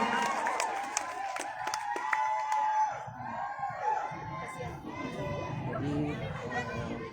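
A crowd of spectators at a choir competition in Toraja, many voices chattering and calling out at once, with children's shouts and a loudspeaker voice talking over the busy murmur.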